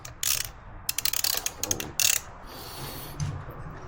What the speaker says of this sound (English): it's a 1/4 Allen, so we're just going to loosen it up.